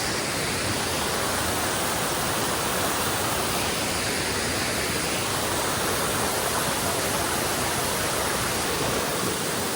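Thombattu waterfall, also called Kantara falls, in Karnataka, pouring as a steady, dense broadband rush of water that holds an even, full roar from start to finish with no pauses.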